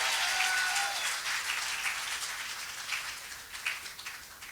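Applause and cheering from a church congregation during an evangelist's French-language sermon: a dense, steady wash of clapping that fades slightly toward the end, with no speech over it.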